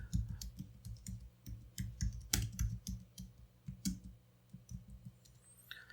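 Keys clicking on a Mac keyboard while a header is typed into an Excel spreadsheet, an irregular run of crisp, close taps in small bursts with short pauses between, and no voice.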